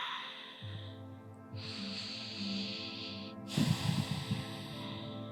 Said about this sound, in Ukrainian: Зробіть тут вдих. І видих.